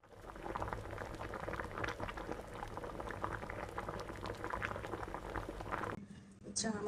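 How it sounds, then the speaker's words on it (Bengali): Milk tea with sugar comes to a boil in a pot, a continuous close bubbling and rolling simmer that stops abruptly near the end. "এই যে চায়ের বলক আসছে, কালারটাও চলে আসছে।"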